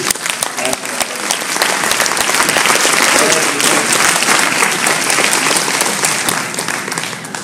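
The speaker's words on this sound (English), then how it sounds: "can we all just give everybody a round of applause?" A large audience of therapists gives a sustained, loud round of applause, steady and full for several seconds before easing slightly.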